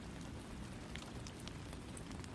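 Steady rain falling in Amsterdam, a dense, even hiss of drops on surfaces with scattered brighter patters, continuous and fairly close, with no voices.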